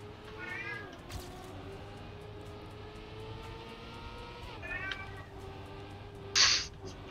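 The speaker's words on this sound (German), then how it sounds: "Deine Katze erzählt von deinem Alltag und dass sie nichts zu fressen kriegt" House cat meowing close by, a couple of drawn-out, wavering calls over a steady engine-like drone from a racing game, then a brief sharp burst near the end.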